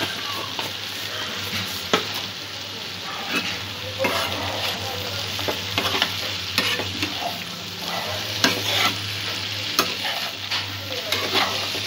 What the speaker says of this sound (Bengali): সমস্ত উপকরণগুলো আরও 2-3 মিনিট ভালো করে কষিয়ে নেব।